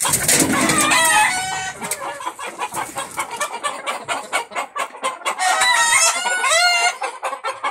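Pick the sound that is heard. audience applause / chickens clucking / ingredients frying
chickens clucking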